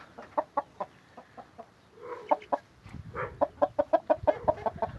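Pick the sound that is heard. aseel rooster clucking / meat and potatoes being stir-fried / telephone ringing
aseel rooster clucking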